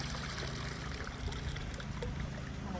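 Soapy, sudsy water is poured out in a continuous close trickling gush, steady and fairly quiet throughout with no talking.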